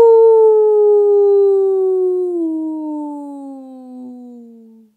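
A long, single wolf-like howl, voiced by a person imitating a wolf for a children's story read-aloud, starts loud and slides slowly downward in pitch before fading out.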